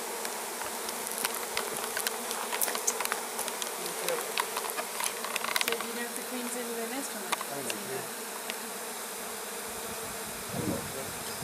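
Honeybees buzz in a dense, steady drone during a beehive relocation in Provence, with a close swarm filling the air and occasional louder passes near the listener; a few faint voices come through underneath.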